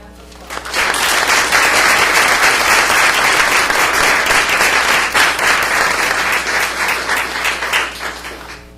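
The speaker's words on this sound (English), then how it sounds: "Give them a round of applause." An audience at a school district board meeting bursts into loud, sustained applause. The clapping rises sharply, holds steady for several seconds, then tapers off, with a few voices mixed in.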